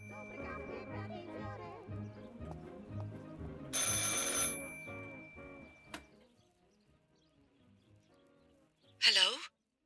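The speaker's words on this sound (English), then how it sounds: "I should pick up the phone but remain silent" Telephone in the horror game Martha is Dead ringing in a bright, jingling burst, heard briefly alongside background music and later a sharp chime.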